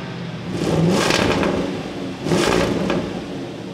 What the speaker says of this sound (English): I wanted you to hear how that new Land Rover Defender V8